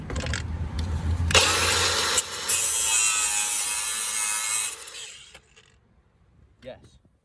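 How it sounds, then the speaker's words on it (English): An angle grinder cuts into the rusty sill metal of a Citroën C1, Toyota Aygo or Peugeot 107 with a loud harsh whine that runs for about three and a half seconds before spinning down into near silence. "See now, it needs a little bit more angle grinder."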